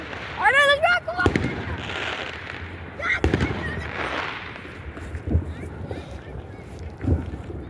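A New Year fireworks rocket goes off with a whistling rise and a few sharp bangs and crackles outdoors, while people talk nervously nearby.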